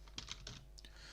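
Several quick keystrokes on a computer keyboard as text is entered in a digital mapping or drawing program, soft separate taps in a short irregular burst, close and fairly quiet with no talking.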